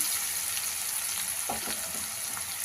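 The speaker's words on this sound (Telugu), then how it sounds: "ఆనియన్ మధ్య మధ్యలో మనం కలుపుకుంటూ హైలోనే ఉంచుకొని మనం ఫ్రై చేసుకున్నాం" Onions frying on high heat for a chicken curry, a steady loud sizzle with brief scraping stirs partway through, no voices.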